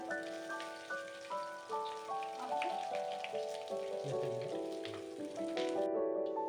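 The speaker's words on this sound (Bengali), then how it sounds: "এবার এই পেঁয়াজটাকে ভালো মতো নাড়াচাড়া করে নরম করে ভেজে নেব মিডিয়াম টু লো ফ্লেমে" Sliced onions fry in oil over a medium-low flame with dried red chillies for a biryani-flavoured lentil dal, a steady soft crackling sizzle running beneath gentle melodic background music.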